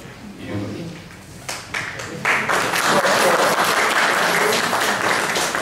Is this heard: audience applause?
yes